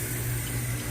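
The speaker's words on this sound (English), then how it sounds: "so I have to start the water" Tap water running steadily into a sink or bucket as a shoe-cleaning setup is prepared, a continuous close hiss and splash lasting the whole moment with no one speaking.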